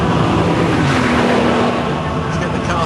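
A Bugatti Veyron sports car accelerates hard in fourth gear at 5,000 rpm down a straight at around 200 km/h, a loud, steady engine roar with rising drone heard from inside, with no one speaking.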